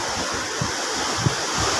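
Sea waves break at a beach near a court, a steady broad wash of surf mixed with wind rumbling against the microphone, fairly loud and continuous for a couple of seconds with no talking.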